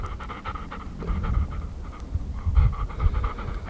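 A hot dog panting rapidly and close, a steady quick rhythm of breathy huffs, outdoors with no talking.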